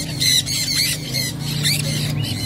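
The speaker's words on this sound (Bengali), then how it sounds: "এখানে রয়েছে নর্মাল ইয়েলো সাইড কনুর" Yellow-sided conures at a pet market give loud, harsh squawks in repeated bursts over steady background noise, close and dominant.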